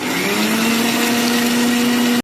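A mixer grinder whirs loudly at close range as it grinds a wet paste of coconut, ginger, onion, tomato, coriander, garlic and chili with a little water. The steady motor drone runs on, then cuts off abruptly at the end.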